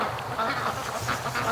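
Ducks quack at a lake on a sunny day, with short repeated calls close by over faint background noise.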